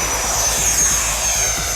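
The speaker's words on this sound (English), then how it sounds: "this jet flies incredible" A Freewing EF2000 Typhoon 90mm electric ducted-fan RC jet flies overhead with a loud, steady high-pitched whine and rushing roar, continuous and close, without voices.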